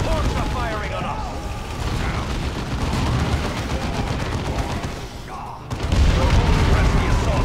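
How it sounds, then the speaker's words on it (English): Ork gunfire from Warhammer 40k: Dawn of War II rattles as a constant dense barrage of machine-gun fire and mechanical clatter, with distant booms and a louder surge near the end. "Orcs are firing on us."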